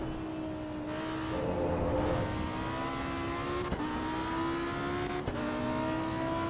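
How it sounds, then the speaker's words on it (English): Lamborghini engine in the racing game Assetto Corsa Evo, revving steadily with rising and falling pitch through gear changes, a few sharp shift blips punctuating the continuous loud drone, with no talk. "I like the Lamborghini sounds."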